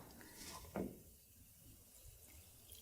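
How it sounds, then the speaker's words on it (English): Water poured into a flower arrangement dish with pebbles and a pinholder, a brief splashing pour near the start followed by faint trickles and drips in a quiet room. "So then I'm going to pour on a little bit of water."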